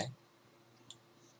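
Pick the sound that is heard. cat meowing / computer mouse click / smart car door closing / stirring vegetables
computer mouse click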